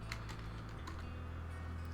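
Quick soft keystrokes on a computer keyboard, a brief cluster of faint clicks over a steady low hum, with no voices.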